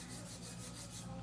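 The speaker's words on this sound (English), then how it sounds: "So that's how I season my files. I just get the edges. I rub two against each other." Two new nail files for acrylic nail work rubbed against each other, a close, steady gritty rasp in quick repeated back-and-forth strokes, with no talking over it.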